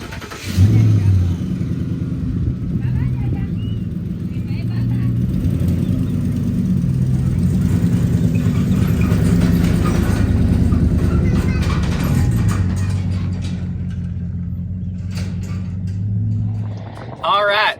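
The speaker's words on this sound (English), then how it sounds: "I'm going to go start driving that way to pick up the equipment." A car engine drones steadily while driving, a loud, continuous low rumble with even hum that holds level for the whole stretch and dips briefly near the end.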